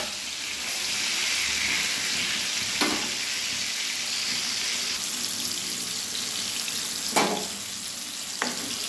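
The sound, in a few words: pumpkin pieces frying in a pan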